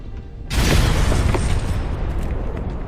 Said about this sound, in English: The explosion sounded like it was overlapping.